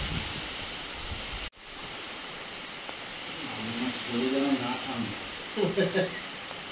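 Steady rain hiss fills the background throughout, with a brief sharp dropout early on and people talking over it in the second half.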